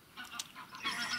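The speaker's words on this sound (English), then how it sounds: "You might get the geese in the background there going by." Geese honk as they fly past a rural road in the Cairngorms near Corgarff Castle in Scotland, a few short calls that sound fairly distant over a soft outdoor background.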